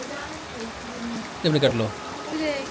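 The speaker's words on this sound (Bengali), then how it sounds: "বৃষ্টি কিন্তু ভালোই নামছে, পরিবেশটা ঠান্ডা করে দিয়ে গেল।" Rain falls on a rooftop garden, a steady soft hiss throughout, with a person briefly speaking over it midway.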